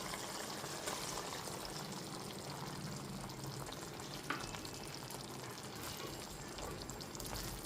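Cornflour slurry going into a simmering chili chicken gravy, a steady close sizzle of frying with soft pouring and stirring sounds throughout, no voices.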